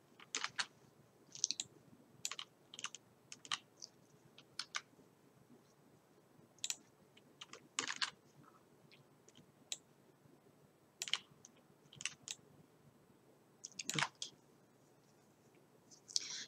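Mouse clicks from selecting items and pressing the insert button in PowerDirector video editing software, a scattered series of short, sharp, close clicks at irregular intervals over quiet background, no talking.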